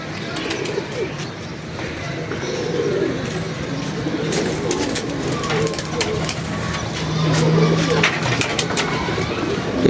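Pigeons coo softly amid a busy outdoor background, with low throaty calls surfacing now and then among chirps and clatter.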